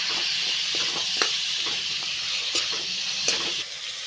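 Steady frying hiss from a pan of spices with chili powder and turmeric, with faint occasional scrapes and ticks of stirring underneath.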